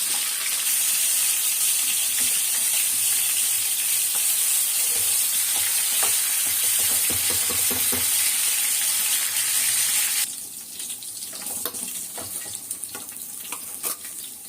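Loud, steady sizzling of fish frying in hot oil, a dense crackle that drops to a quieter, spattering sizzle near the end.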